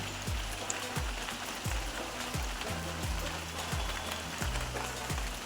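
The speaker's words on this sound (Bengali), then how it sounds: "সকাল থেকে পড়ছে টিপ টিপ টিপ টিপ করে বৃষ্টি" Light, steady rain falls in the morning, a soft continuous patter with even hiss throughout, no voices, with a few low rhythmic thumps repeating underneath.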